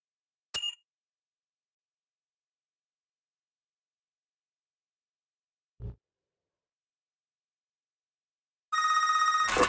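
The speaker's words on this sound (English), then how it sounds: "what you're hearing is the car's short message system," Short message alert from a car's onboard system in a modified USSR-themed version of Need for Speed Underground 2, ringing as a bright, rapid electronic trill that starts near the end, after a brief chirp and a soft low thump earlier in near silence.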